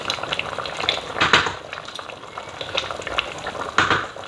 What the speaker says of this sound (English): I'm going to be adding in our red oil